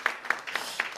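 Four distinct, evenly spaced handclaps ring out in a Sunday church service, sharp individual claps rather than a crowd roar, fairly close and moderately loud over a quiet background.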